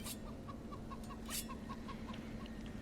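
Chickens cluck in a video game, a rhythmic series of soft, evenly spaced clucks over a constant low ambient drone, faint and somewhat distant.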